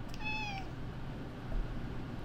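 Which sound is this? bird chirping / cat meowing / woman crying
cat meowing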